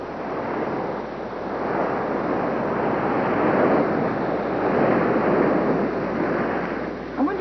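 Ocean waves break on a beach in a steady, loud, rushing roar of surf that never stops, with some wind noise mixed in and no voices.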